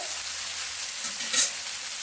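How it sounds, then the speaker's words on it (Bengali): Vegetables sautéing in a pan for a vegetarian drumstick and mustard charchari, a soft steady hiss close up with one short light scrape partway through, no talking. "দেখো সবজিগুলো প্রায় কষানো হয়ে এসছে।"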